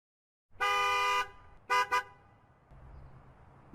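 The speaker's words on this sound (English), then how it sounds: "Also I added some vehicle horns." Vehicle horn sound effect: one long loud car honk of about three-quarters of a second, followed shortly by two quick short toots, then a low background rumble of traffic.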